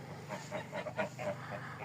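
Several geese honk nasally close by in a short burst of overlapping calls, with no talking.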